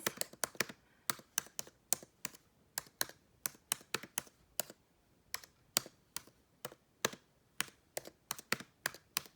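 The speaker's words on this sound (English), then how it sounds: "I'm typing so that you can see it." Steady, close typing on a computer keyboard, with quick irregular clicks in short bursts and brief pauses, no voices.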